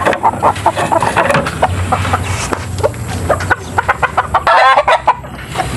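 Young farm chickens cluck loudly and close by in a rapid, uneven series, with a rooster's crow breaking in near the end.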